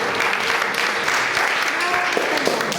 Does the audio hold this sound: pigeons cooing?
no